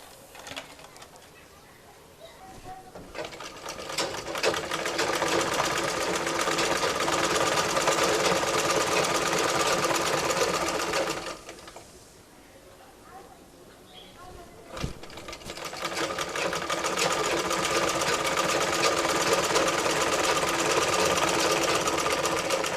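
A sewing machine stitching the folded side seam of a 2-inch-wide fabric strip for piping, a steady loud mechanical whir running for about ten seconds, pausing briefly, then resuming at the same pace.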